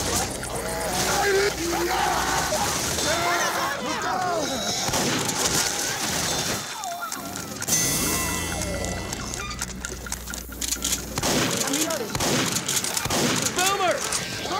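Rapid gunfire and explosions from the Left 4 Dead mod Left4Fortress2, fighting armored zombies, fill the game mix loudly and continuously, with bursts and booms under players shouting to each other throughout.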